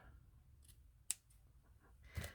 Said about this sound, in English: I might just have to make that a little bit shorter, just trim it off a bit.